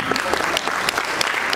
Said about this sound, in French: Et il va passer devant sous vos applaudissements.